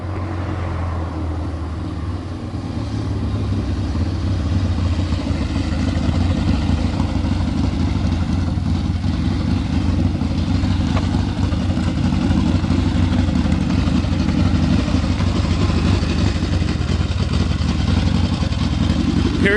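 1971 Harley-Davidson XLCH Ironhead 1000 motorcycles run with a loud, steady low engine rumble and clatter, holding strong for the whole stretch as they drive by, with no talk over it.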